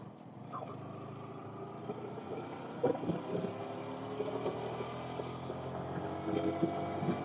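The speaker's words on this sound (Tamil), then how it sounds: "ஜில்லுன்னு காத்தடிக்குது." Cold wind roars past the microphone on a night motorcycle ride through the mountains around Kolukkumalai near Munnar, a steady low rushing buffet with the engine droning underneath.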